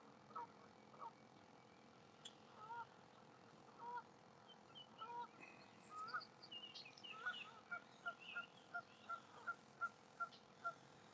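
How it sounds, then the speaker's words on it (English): Geese honk at a distance across open water, the scattered calls gathering into a steady rhythmic run of clear honks toward the end, with no voices. "right now we're just listening to the geese."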